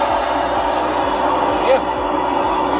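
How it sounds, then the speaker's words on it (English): Vacuum generator running on the ground beside an airplane for aircraft waste pipe cleaning, a steady loud mechanical whir with a faint rhythmic pulsing underneath, continuous throughout. "So now we're gonna use vacuum generator."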